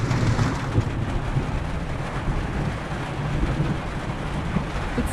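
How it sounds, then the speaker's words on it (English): Steady rain pours down in cold weather, a dense continuous wash with wind buffeting the microphone and a low rumble underneath, no voices. "Yeah, the rain is here."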